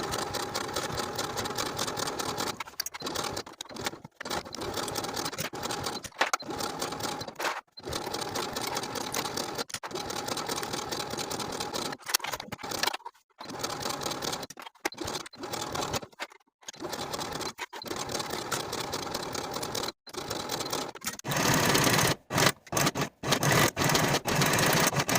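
Cardigan seams pass through a sewing machine in repeated close bursts of steady whirring, broken by short pauses between runs, with no voices.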